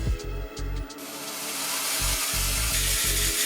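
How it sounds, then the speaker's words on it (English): A milling machine cutting a tang slot into metal spacers for a Damascus dagger hilt with a brass and white pearl handle: close, loud grinding machine noise with rhythmic low pulses as the cutter bites, rising into a steady hiss. "now I'll mill a slot for the tang in both of the spacers"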